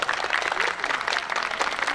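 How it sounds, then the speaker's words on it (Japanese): An audience at an outdoor community event in Fukuoka claps steadily, a dense, even wash of applause that carries loud and continuous without a break. "もう一度盛大な拍手をお願いします。"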